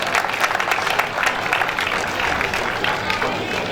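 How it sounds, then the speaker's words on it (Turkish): Applause from the crowd at the opening of a municipal swimming pool and sports complex: dense, sustained clapping that stays loud and near throughout. "Önce alkışı bu çocuklara, gençlere alalım."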